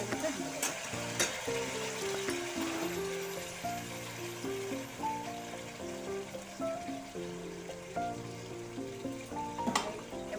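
A paste of poppy seeds and cashew nuts fries in hot oil with a steady, soft sizzle. Melodic background music plays over it and largely covers the sound.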